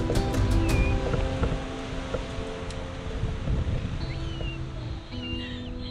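Steady strong wind roars and buffets the microphone at a common buzzard nesting site, with a broad rushing noise throughout and faint high chirps drifting through now and then.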